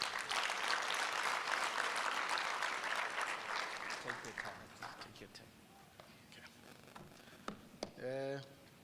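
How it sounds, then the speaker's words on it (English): A conference audience applauds the CEO, with dense clapping that thins out into scattered claps and then stops, followed by a brief voice. "let's give the CEO a good round of applause."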